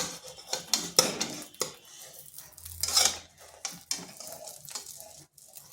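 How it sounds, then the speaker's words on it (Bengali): A spatula turns an egg over in a pan while cooking a Bengali egg dish, producing a close, irregular run of metallic clinks, taps and scrapes with short pauses between them. "এরপর ডিমটা আমি উল্টো পাশটা ঘুরিয়ে নিচ্ছি।"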